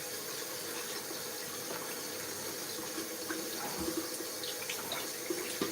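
Kitchen tap water running steadily into a sink while produce is rinsed for a margherita pizza, a constant close splashing hiss with small clinks of handling.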